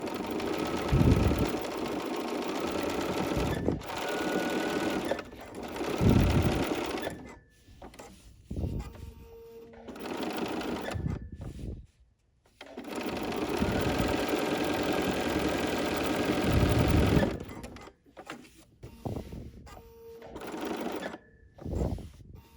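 Sewing machine quilting fabric, running in long steady mechanical bursts with brief pauses and stops between passes, close and clear.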